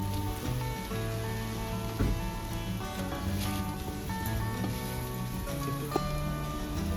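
Water goes into a pan of jackfruit and potato curry, raising a steady, loud hiss and sizzle that fills the whole stretch. A faint tonal hum sits underneath.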